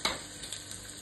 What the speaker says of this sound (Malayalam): എണ്ണ ചൂടായ ശേഷം നമുക്ക് ഉള്ളി ഇടാം